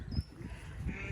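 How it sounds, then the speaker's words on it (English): Brief, faint bleat from a goat at a farm, over a low background rumble. "It's a goat."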